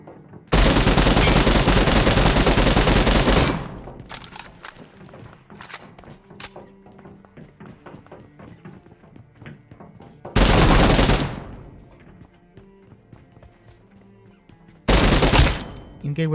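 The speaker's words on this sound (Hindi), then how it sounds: "अब दिखाता हूँ आपको ये वाली गन की असली ताकत" Gunfire from a gun in the mobile battle game PUBG Mobile comes in three loud bursts of rapid automatic fire. Between the bursts there are quieter in-game thuds and footsteps.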